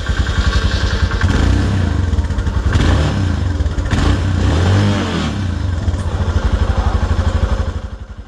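Motorcycles at an adventure tour outfit in Santa Cruz, Bolivia run loud and close, their engines chugging in a steady pulsing idle with revs swelling and a clattering thump in between.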